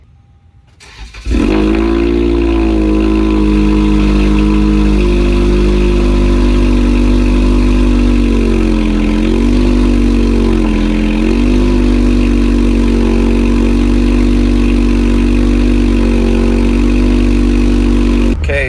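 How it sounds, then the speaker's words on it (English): A Toyota Camry with catless headers cranks and fires up from cold after a moment of quiet, then settles into a loud, raspy, throbbing idle that holds steady. "I'm gonna get a cold start for you guys"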